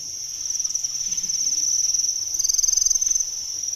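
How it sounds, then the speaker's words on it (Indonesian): Breeding-stock crickets kept for egg production chirp in a steady, high pulsing trill, close and continuous, with no voices. "ini indukan-indukan kita, indukan jangkrik kita"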